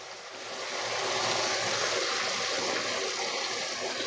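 Water poured into a simmering pulasa fish curry gives a steady, close rushing pour that swells in and holds for about four seconds, with no talking.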